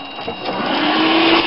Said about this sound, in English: It's firing my vacuum.